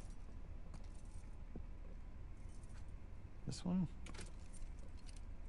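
Metal keys jangle briefly as someone tries them in a lock in The Last of Us Part II, a short clinking burst partway through over a quiet ambient background, with a voice speaking just before.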